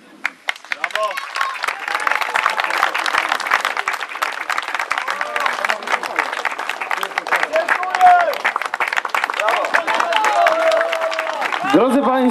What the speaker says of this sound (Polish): Drodzy Państwo, brawa dla Krzysztofa, który jest zwycięzcą